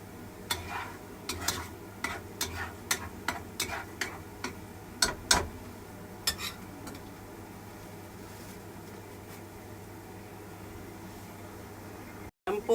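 Garlic frying in a pan while being stirred, a low steady sizzle broken by a regular series of sharp scraping clicks of the utensil, growing sparse toward the end; no talking.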